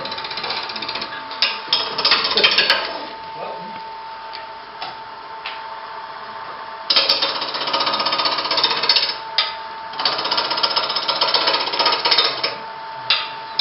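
Roughing gouge, 3/4 inch, cutting wood on a lathe during an off-center woodturning session, giving rough, rapid chattering bursts that come in uneven stretches with short pauses between passes, close and fairly loud.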